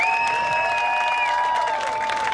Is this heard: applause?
yes